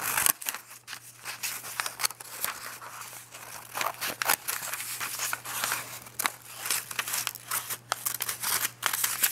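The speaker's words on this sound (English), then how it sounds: "Just do some freehand cutting." Scissors cut freehand through paper in quick, repeated snips, close and crisp, with rustling of the paper between cuts.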